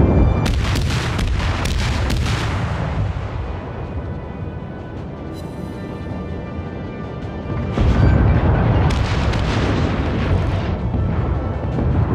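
Naval gunfire strikes a ship during a World of Warships battle with a British Weymouth cruiser: repeated loud booms and blasts, a dense barrage early on, then a heavy rumbling impact surging near the end.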